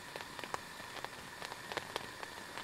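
Rain in the game Phasmophobia patters as a steady hiss of quiet drops, with scattered sharper ticks and pops like popcorn crackling, faint and continuous with no talk.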